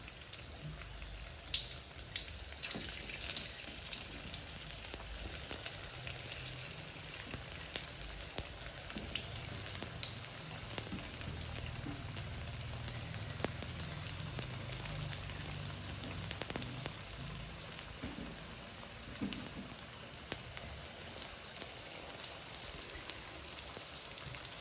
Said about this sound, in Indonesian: sekarang waktunya kita goreng ubi ungu lumpianya ya